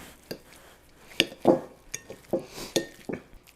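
Cooked sweet potatoes are mashed in a bowl with a potato masher, a series of irregular knocks and clinks against the bowl with soft squelching between them.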